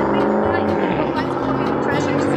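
A wild pickup truck rolls past close by on an open road, a broad steady roar of engine and tire noise that fills the whole moment without any voices.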